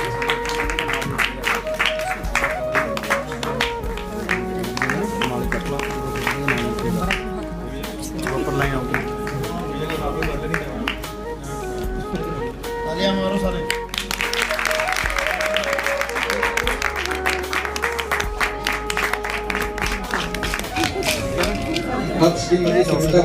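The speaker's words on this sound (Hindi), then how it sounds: "इनके लिए जोरदार तालियां" At a prize distribution ceremony, an audience claps for each award recipient in turn, steady crowd clapping that swells in waves under a presenter's voice, with music in the background.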